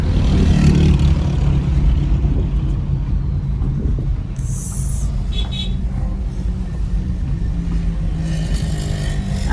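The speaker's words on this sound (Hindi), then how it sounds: "गाड़ी मैनुअल पे चला रहे हैं, गियर 1 पे।" A car with manual transmission climbs in first gear on a mountain road crossing Babusar Top between Naran and Hunza, its engine a steady loud rumble throughout with faint brief higher noises partway through.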